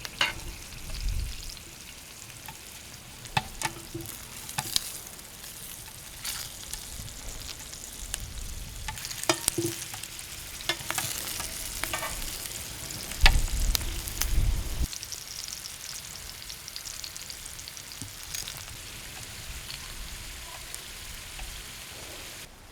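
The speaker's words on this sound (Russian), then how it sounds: "Здесь я уже добавил немного растительного масла, друзья, чтобы слегка обжарить картошку." Potatoes fry in vegetable oil in a pan, a steady crackling sizzle that runs throughout with scattered sharper pops and a brief louder burst near the middle.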